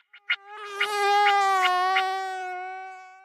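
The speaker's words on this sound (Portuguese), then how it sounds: "esse calor infernal e os mosquitos me picando" Mosquitoes give a thin, high-pitched whine that swells in and holds steady for about three seconds, close and alone, then fades slightly toward the end.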